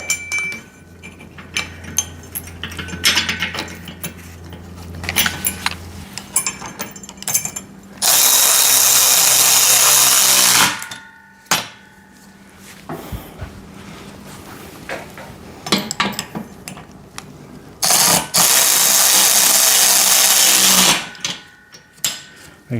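A power drill or driver tightens bolts while a VEVOR pec deck and rear delt home gym machine is assembled: two long, loud whirring bursts with a pause between, plus scattered clinks and taps of metal parts in between.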